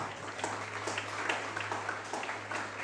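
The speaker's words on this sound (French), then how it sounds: "Vous êtes priés de l'applaudir à nouveau" Audience applause at a graduation ceremony, a steady wash of many hands clapping together across the whole stretch, moderately loud with a constant low hum underneath.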